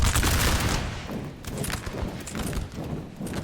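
Massed musket volleys crackle and thump in a Napoleon: Total War battle between French and Prussian lines, a dense rolling fusillade of overlapping shots, loud at first and then continuing steadily.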